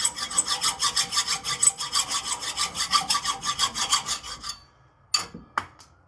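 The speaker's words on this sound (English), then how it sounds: "so I'm just going to hacksaw this thing off" Hacksaw cutting off a bolt during an add-a-leaf install on a Tacoma, a close, even rasping of back-and-forth strokes for about four seconds, then a pause and two sharp metallic clanks.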